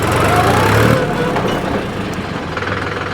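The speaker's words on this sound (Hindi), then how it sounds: "ट्रैक्टर स्टेबल हो जाता है एक जगह पर ही, ये देखो ब्रेकिंग" A Mahindra 275 DI tractor brakes to a stop: a loud, close diesel engine rumble that drops slightly in level after about a second and then settles into a steady idle.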